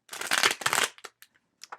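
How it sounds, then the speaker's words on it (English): Tarot cards being shuffled by hand: two quick riffling bursts followed by a few soft, short taps and slides, close and quiet, with no voice. "While I shuffle for today's story of energies"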